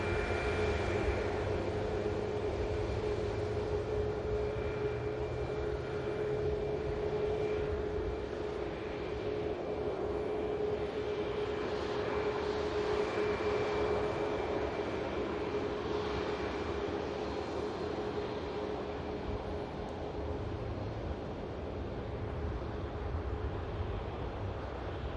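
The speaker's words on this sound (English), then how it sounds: "Next aircraft to touchdown is inbound from Reus 737 of TUI, Whiskey Uniform." A TUI Boeing 737 landing at Manchester Airport makes a steady, distant roar that holds at an even level throughout, mixed with wind noise and a faint sustained tone.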